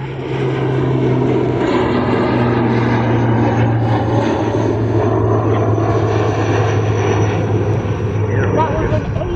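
An ATR 72-600 turboprop airplane drones loudly and steadily nearby at East Midlands Airport, a deep engine hum with a throbbing low tone and rushing air throughout.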